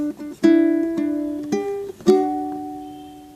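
Fingerstyle ukulele picks the opening phrase of Happy Birthday, with two strings sounded together: a handful of bright plucked notes with ringing decays, close and clear, with no talking.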